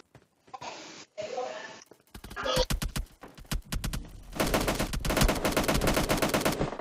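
Gunfire in PUBG Mobile: scattered single shots at first, then dense rapid automatic bursts that build into sustained loud machine-gun fire, close and sharp, with brief gaps between volleys.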